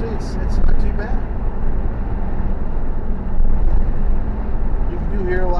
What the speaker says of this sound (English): You do hear a lot of wind noise because it's not that aerodynamic, so that will add a lot